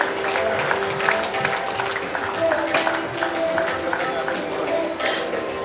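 An audience at a centenary celebration claps steadily to welcome dignitaries onto the stage, a dense sustained patter of many hands with a voice speaking over the applause.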